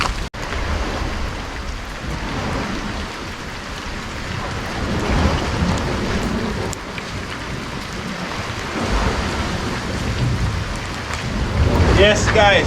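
Heavy rain pours continuously at night in Jamaica, with low rumbling thunder rolling underneath throughout and a sharp crack near the start, dense and close by.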